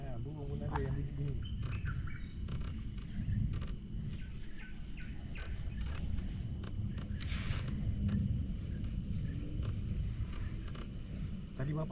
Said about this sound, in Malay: Burung pun ada yang begini.